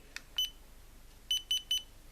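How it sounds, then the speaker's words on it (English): A Dazzne P2 Plus action camera gives short high electronic beeps as it powers off: one early pair, then three quick beeps close together, faint and without talking. "beeps when you turn it off"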